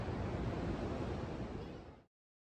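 Ocean surf rolling in at the seaside in Newquay, a steady broadband wash of breaking waves that holds fairly loud and close for about two seconds before cutting off abruptly.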